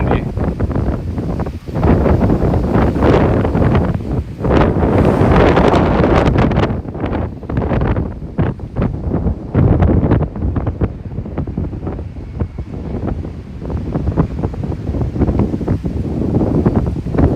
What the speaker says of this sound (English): Super windy, super windy.